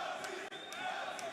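A crowd at an MMA event cheers and shouts for a fighter, a dense roar heard at some distance with a brief dip partway through.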